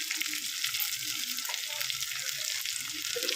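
Ingredients for a Telugu tomato chutney fry in a pan, giving a steady, close, hissing sizzle with faint clinks and low background sounds throughout.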